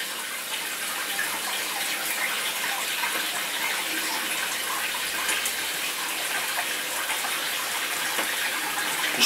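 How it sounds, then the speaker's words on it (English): Tap water runs steadily into a sink while a plate is washed up, a constant broadband splashing hiss that stays even and close throughout with no talking. "Just washing up a plate, I should say, not washing out."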